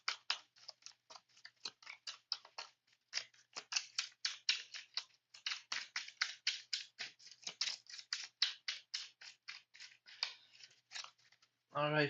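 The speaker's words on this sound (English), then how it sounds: "so I shuffle my deck" A deck of Marvel Champions cards being shuffled during a one-shot game, giving a long run of quick, crisp riffling bursts in an even rhythm, close and fairly loud, with a short pause near the end.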